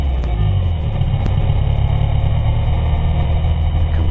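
A sport motorcycle engine runs loud and close in a steady, droning rumble during a wheelie, holding an even pitch with no clear rise in revs, and no one speaks.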